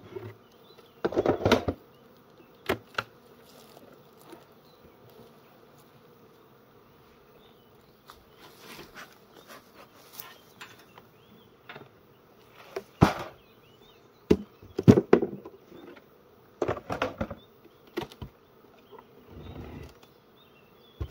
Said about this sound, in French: Il peut y avoir beaucoup d'abeilles.